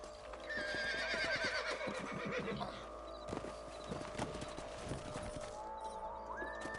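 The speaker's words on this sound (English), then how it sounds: "Let's get back on the horses and see what else is going on." A horse whinnies loudly over a rapid clatter of hooves in the video game Red Dead Redemption, then the hoofbeats continue more steadily beneath a rising mechanical tone.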